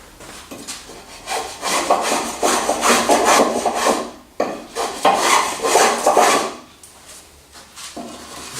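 A hand tool rasps back and forth across a wooden table edge while rounding it over, a close series of scraping strokes in bursts with short pauses between them.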